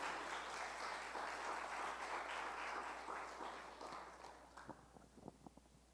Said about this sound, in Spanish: Dale ese fuerte aplauso a Dios.